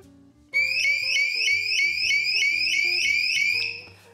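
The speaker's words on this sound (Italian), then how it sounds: "Vi assicuro che l'allarme è veramente molto forte." A Tp-Link Tapo T300 water leak sensor alarm set to maximum volume sounds loud and close: a rapid repeating electronic beeping pattern with a warbling high tone, starting abruptly and running steadily for about three seconds before cutting off.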